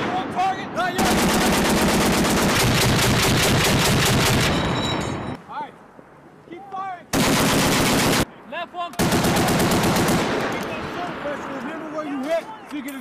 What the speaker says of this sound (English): M2 has seen service all over the world as an anti-aircraft, anti-vehicle and anti-personnel machine gun